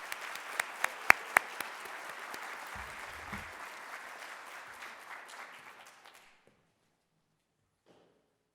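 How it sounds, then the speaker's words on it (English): Audience applause for spelling bee contestants at a school spelling bee, a sustained burst of clapping that swells briefly, then fades out over about six seconds, followed by near silence. "Why don't we give a round of applause to everyone?"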